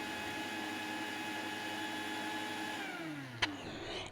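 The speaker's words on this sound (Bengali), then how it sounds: "একটু সময় নিয়ে এই মশলাগুলোকে গুঁড়ো করে নিচ্ছি" Whole spices for homemade garam masala ground in a blender or grinder, a steady loud motor whir with tonal hum that slows and drops in pitch near the end, followed by a sharp knock.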